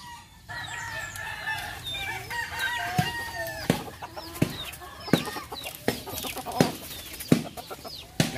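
A Yokohama longtail phoenix chicken clucks steadily and crows in repeated calls close by, with sharp clicks and knocks punctuating the scene, other birds faintly chirping behind.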